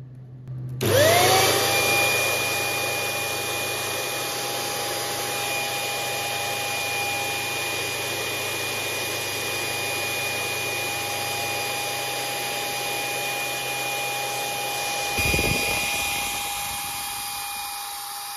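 A Convac 3000 service vacuum cleaner, fitted with a new motor and brushes, switches on with a rising whine and runs steadily and loudly with a constant tonal hum, shifting briefly near the end; no talk.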